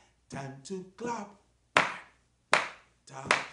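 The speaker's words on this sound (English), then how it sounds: "Time to clap." Hand claps during a classroom management chant, with a few crisp, separate claps spaced apart. A voice sings or chants briefly at the start before the clapping.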